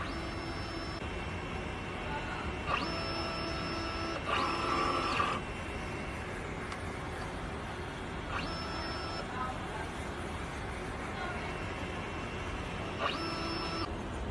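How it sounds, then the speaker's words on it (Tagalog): A DTF printer runs a print-head cleaning cycle: a steady mechanical whir and hum, with several brief higher-pitched tonal bursts at intervals, heard close and fairly quiet throughout. "Ganito po ang tamang pag-head clean."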